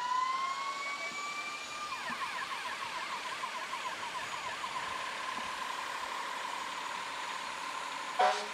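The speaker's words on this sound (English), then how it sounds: "here's the fire truck with all of the kids" A fire truck rolling through a small-town Canada Days parade sounds its wailing siren, sweeping up and down in a steady yelp, loud and sustained, ending with a short horn blast.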